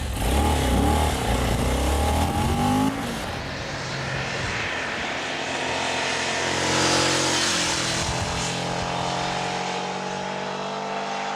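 A 2000 Cagiva Gran Canyon motorcycle pulls away hard, its engine loud and close at first, then climbing through the gears as it recedes down a twisty road, the drone thinning and fading into the distance.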